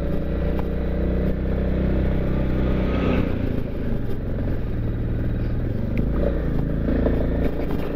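A steady, loud engine drone from a 350cc motorcycle climbing a rough mountain road, with constant low rumble and wind buffeting throughout and no clear gear changes.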